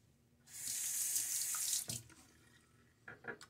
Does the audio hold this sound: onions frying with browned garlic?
no